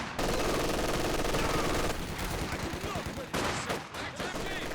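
Dense battle gunfire from Company of Heroes 2, with sustained rapid machine gun bursts mixed with other shots and loud, busy combat noise throughout, while a voice talks over the action.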